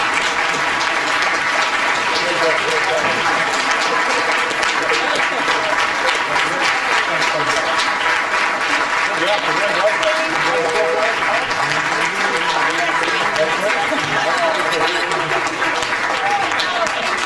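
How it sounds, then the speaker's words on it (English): Sustained applause from a large audience at a presidential event for working families, dense steady clapping filling the whole stretch with a loud even roar and a murmur of crowd voices mixed in. "Give them a big round of applause once again."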